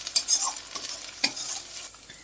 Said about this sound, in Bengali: আদা রসুন ভালো, কাঁচা লঙ্কা ভালো ভাজা ভাজা হয়ে গেছে।